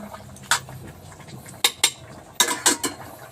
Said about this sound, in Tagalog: Halo-haloin muna natin.